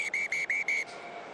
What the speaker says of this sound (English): there's the blast on the whistle on account of the stricken man